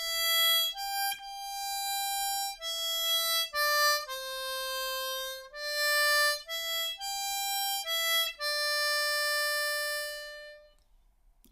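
A C diatonic harmonica plays the opening line of the New World Symphony theme from Dvorak, a slow sequence of sustained single notes with clean breaks between them, close and clear with no talking.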